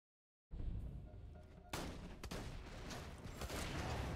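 Shotgun blasts in Borderlands 2 boom out after a silent start, with loud heavy reports repeating over a rumbling, busy game mix.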